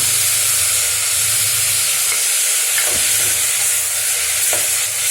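Chopped onions with cumin sauté loudly in a hot pan, giving a dense, constant sizzling hiss up close, with a few soft stirring scrapes from a spoon.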